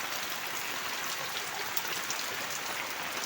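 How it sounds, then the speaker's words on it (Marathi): Light monsoon rain falls behind a house near freshly planted rice paddies in the Konkan, making a steady, even hiss of fine drops that continues without a break and with no voices. "बारीक बारीक पाऊस पडतो"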